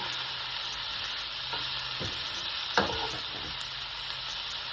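Beans and garlic sizzle continuously in a pan as they are stirred during sautéing, a dense, steady frying hiss broken by a few soft scrapes and clacks of the utensil, with no talking.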